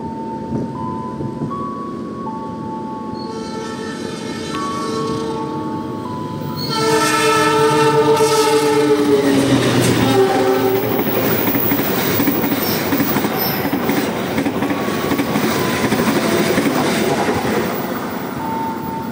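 A train horn sounds loudly as the Argo Bromo Anggrek passenger train approaches and rumbles past, wheels clacking rhythmically with a rising roar, then fading slightly.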